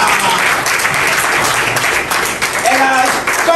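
An audience applauds at the inauguration of Global Market Investment, a dense sustained clapping heard throughout, loud and close, with a voice talking over it.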